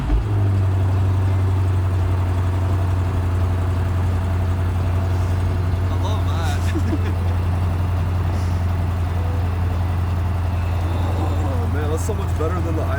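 A car engine, a model framed as better than a Lexus IS350, idles with a steady deep low hum that runs the whole time, with people talking over it.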